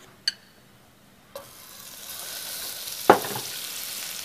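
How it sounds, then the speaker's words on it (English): Butter sizzles and crackles steadily in a hot pan, growing louder over time, punctuated by a few sharp clicks and a utensil clatter. "You like to hear that sizzle."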